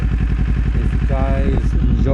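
A 2024 Kawasaki Z400 motorcycle being ridden on a warm afternoon, its engine loud and close with a steady throbbing pulse that rises briefly in pitch.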